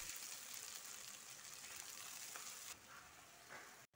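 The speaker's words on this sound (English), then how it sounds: "Onion paste. Fry until oil comes up." Onion paste frying in oil for chicken malai kofta, a loud close steady sizzle that drops to a softer fry near the end with a brief stir.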